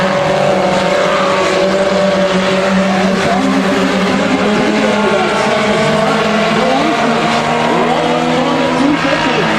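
Race cars roar past one after another at the 250 Speedway in a late-lap run to the line, their engine drones loud and continuous with overlapping pitch sweeps, a voice faintly audible under the din.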